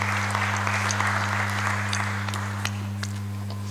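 Conference attendees at a NASAC international forum in Tanzania applaud the executive director, steady clapping that gradually fades, over a constant low electrical hum.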